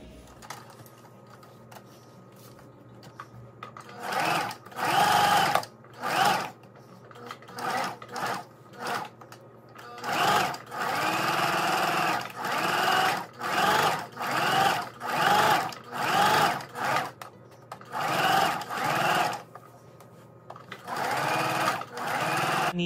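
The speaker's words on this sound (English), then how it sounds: "Need to sew this edge, so I folded this all the way over." A sewing machine stitches along the folded edge of a pillow cover in a dozen or so short bursts of fast, close mechanical whirring, separated by brief pauses.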